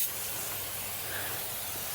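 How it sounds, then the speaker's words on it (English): An aerosol spray can hisses in one steady, continuous burst as it sprays the engine bay of a 1968 Ford XL, around the intake. The spray is close and moderately loud, with no talk. "we're just gonna spray everywhere and everything"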